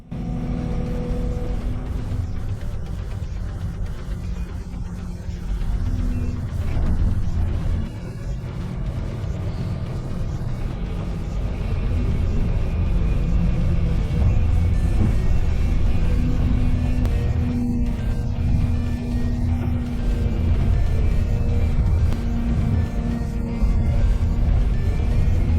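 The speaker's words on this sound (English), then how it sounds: "Now watch heavy equipment working at full potential in a real farm environment" Heavy land clearing machinery works on a farm with a loud, continuous low diesel rumble and grinding that swells and surges throughout, steady and close with no clear pauses.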